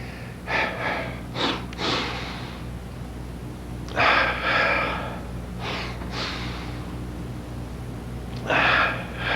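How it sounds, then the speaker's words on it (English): Forceful nasal inhalations in a double breathing exercise with tension, taken as tensing the body and raising the knees with arms out: short paired sniffs in three clusters, fairly close and loud with no talking. "Double breathing with tension."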